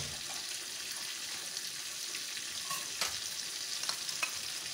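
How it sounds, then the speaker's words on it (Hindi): Garlic paste fries in a few tablespoons of hot oil for a beef chilli dry sauce, a steady close sizzle with faint stirring clinks and small pops, no talking. "मैंने इसमें डाल देना है लहसुन पेस्ट"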